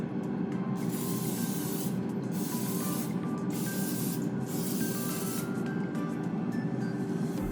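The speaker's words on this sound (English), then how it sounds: "we're just gonna spray some olive oil on it." A steady, continuous hiss of olive oil spray from a can onto pork egg rolls, running without pause throughout, close and fairly loud.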